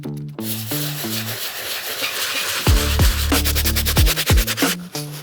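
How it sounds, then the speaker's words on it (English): A soft-bristle brush scrubs the suede upper of a New Balance sneaker in circular motions, giving a close, steady rubbing hiss broken by rhythmic scrubbing strokes, with no talk. "the first brush that I'm gonna use to get this cleaning going is a Soft Bristle Brush"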